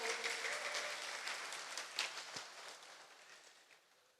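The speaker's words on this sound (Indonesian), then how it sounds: "Saya mohon tepuk tangannya dulu untuk kita sekalian." Audience applause at an Indonesian national-unity discussion forum, a soft, fairly distant patter of clapping that swells briefly and then thins out.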